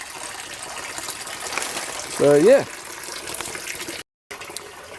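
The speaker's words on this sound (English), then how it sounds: "You can see the water coming out the bottom there." Water runs steadily out of the bottom of a grow bag fed by a new circulation pump in a greenhouse, a continuous splashing flow with a brief spoken phrase over it.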